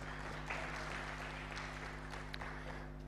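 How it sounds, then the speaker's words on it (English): Guests at an alumni network gathering clap to welcome an attendee, a quiet, distant wash of applause over a steady low hum in the room. "Let's clap for her."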